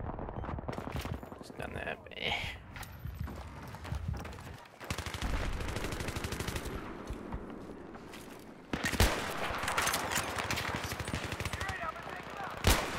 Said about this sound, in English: Shot with a pistol